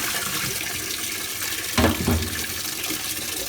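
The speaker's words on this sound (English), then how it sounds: "this is where I add my cup of distilled white vinegar" Distilled white vinegar is poured into a washing machine before an extra rinse cycle, heard as a brief splashing trickle midway through against a quiet background hum.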